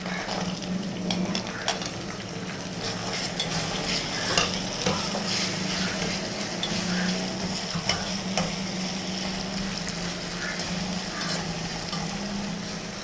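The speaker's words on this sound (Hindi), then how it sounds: "अब हम इसमें जो है ना ये कटे हुए टमाटर और ये मिर्ची भी डाल देंगे।" Chopped tomatoes and green chillies frying in a pan of daal mash, with a steady sizzle under repeated scraping and stirring strokes of a spoon against the pot, close and continuous.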